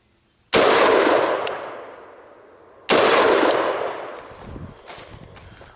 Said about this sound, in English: for this course of fire, I'm restricting myself to 2 rounds. So either I hit twice or I miss twice and I move on.